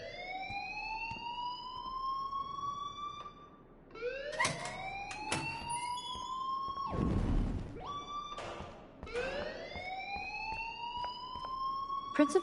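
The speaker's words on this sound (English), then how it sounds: "please turn off that alarm since that's your job" A repeating electronic alarm in the video game Life is Strange, rising sweeping tones cycling about every few seconds, loud and continuous, with a brief burst of noise in the middle.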